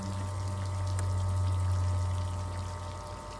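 Steady rushing spray of water from a Game SandPro 75D pool sand filter's sprayer, with a constant low mechanical hum underneath, continuous and fairly close throughout.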